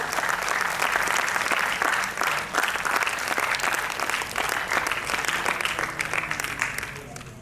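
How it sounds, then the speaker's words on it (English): An audience at an awards ceremony breaks into sustained applause, a thick, steady roar of many hands clapping under a faint hum, fading a little at the very end. "let's have a round of applause."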